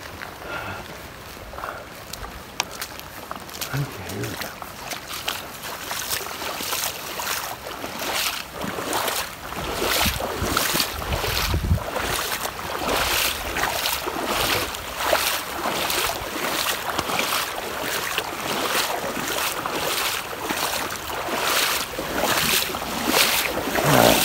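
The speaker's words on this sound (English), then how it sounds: "You hear a raging river." A raging river rushes as a loud, continuous broadband roar that builds and stays strong. Steady rhythmic footsteps from someone walking nearby run on top of it.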